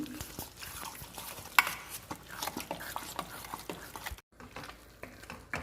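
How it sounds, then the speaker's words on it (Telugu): Cooked lentils with salt being mashed in a pot, giving irregular close scraping and squishing strokes with sharp clinks of the utensil and a brief pause near the end. "ఇప్పుడు మెత్తగా మ్యాష్ చేసుకుందాము"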